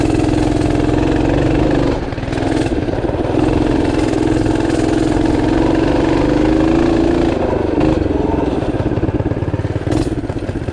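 A Tillotson 212R race engine on a minibike runs loud and close, a buzzing mid-pitched drone that rises and dips as the throttle changes, with a brief drop near the start and rattly clatter throughout.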